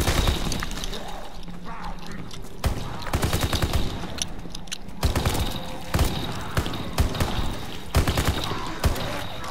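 Rapid bursts of gunfire from the Call of Duty Nazi Zombies game, with repeated sharp shots and short volleys that keep going over a dense, steady backdrop of game noise.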